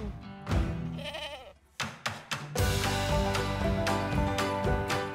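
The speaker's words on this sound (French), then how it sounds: "On a 240 chèvres en production." Goats on a dairy goat farm with about 240 milking animals: a few loud nearby bleats, then a dense overlapping chorus of many goats calling at once, with a clunk or knock in the middle.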